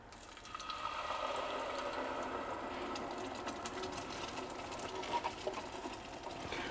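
Tomatillo sauce is poured into hot shimmering oil for enchiladas suizas, giving a steady, busy sizzle and crackle with faint spattering pops. It stays fairly quiet and even throughout, with no voices.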